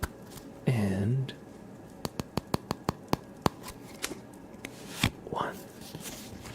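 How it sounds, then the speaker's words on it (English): Playing cards being cut and handled in a quiet ASMR setting: a soft riffle-like burst, then a rapid series of crisp, evenly spaced card snaps and taps, close and clear, with faint handling noise between. "we're gonna cut the deck in about half"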